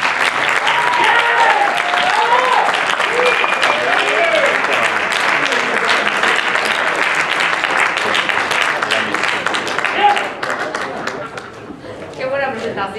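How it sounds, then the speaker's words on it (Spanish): Loud, sustained applause from a large audience at a film presentation at the CutreCon XI festival, steady clapping throughout with some crowd noise, thinning slightly near the end. "por favor, un fuerte aplauso"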